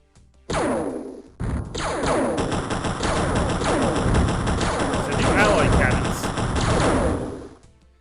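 Rapid, continuous alloy cannon fire in the video game Open X-Com rattles loudly for several seconds, a dense stream of blasts that starts abruptly, briefly cuts out, then resumes before fading.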